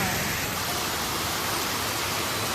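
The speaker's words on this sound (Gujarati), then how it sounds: "આવ્યો ભાઈ આવ્યો વરસાદ આવ્યો" Rain falling in a steady, dense hiss that fills the whole moment, even and unbroken, with no voices.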